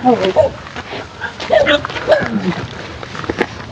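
A dog named Whitey whimpers and gives a few short yips and barks, close and moderately loud, mixed with people talking.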